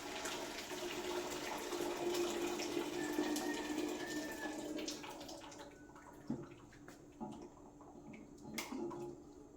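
Hot water poured into a pot while cooking arroz caldo, a steady close splash and gurgle for about five seconds that thins into quieter drips and small clinks.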